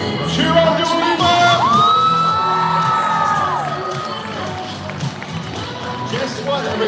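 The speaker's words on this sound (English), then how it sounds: "Cheer on Dua Lipa!" At a live dog show in Detroit, a crowd of adults and children cheers and shouts loudly and continuously, with a high whistle-like tone rising above the noise midway before the roar slowly eases.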